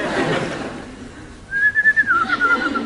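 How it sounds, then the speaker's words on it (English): After a moment of quiet, a person whistles a short, wavering tune up close, loud and alone. "No whistling."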